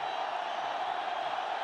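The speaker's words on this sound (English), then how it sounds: "Well, the crowd's gone wild." Cricket stadium crowd cheering wildly under the lights, a dense, continuous roar of voices that holds steady throughout.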